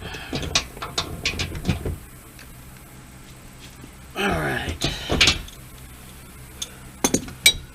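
A hand ratchet snugs down bolts on the upper A-arm suspension of a 2014 Ram 1500 pickup, giving quick bursts of sharp metallic clicking in three short runs separated by quieter pauses.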